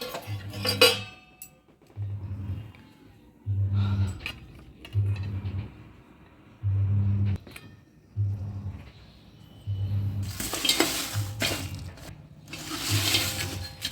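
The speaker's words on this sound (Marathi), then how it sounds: "गावरान पांढरे तीळ त्याला देखील थोडेसे भाजून घेऊ आपण" White sesame seeds roast in a pan with intermittent scraping and rattling strokes, close by. A few clinks of utensils come through, and louder rushing bursts follow near the end.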